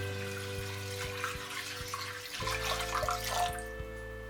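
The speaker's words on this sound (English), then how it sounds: "This is 330 ml of water going in, and this is cold water." Cold water pours from a tap into a pot of washed sushi rice, a steady splashing stream over a low electrical hum, rising slightly as the pot fills.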